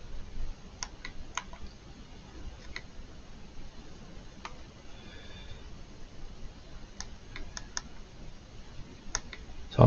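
Clicks and taps on a Steam Deck while playing Star Crawlers, scattered faint ticks spaced irregularly over a quiet background hiss, with a louder knock right at the end.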